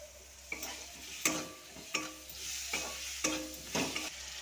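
Spice paste with Kashmiri chilli and tomato being sautéed in a pan: a quiet background sizzle punctuated by a regular series of sharp spatula scrapes and clinks against the pan, with no speech.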